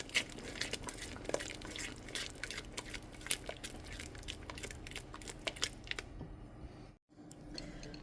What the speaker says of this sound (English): I'm going to go ahead and give it a good mix.